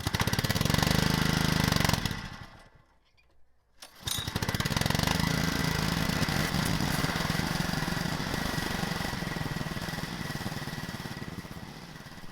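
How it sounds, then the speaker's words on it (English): A gas pressure washer spraying off Subaru rack and pinion parts, a loud engine drone with hissing spray that cuts out briefly and then starts up again, running steadily to the end. "so it's time to pressure wash it off"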